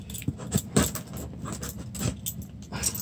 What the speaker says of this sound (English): I have to saw through 10 feet of tape.